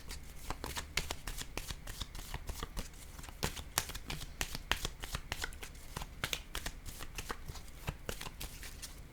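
Tarot cards are shuffled close up in a continuous stream of crisp riffling flutters and soft slaps, rhythmic and steady throughout with no talking.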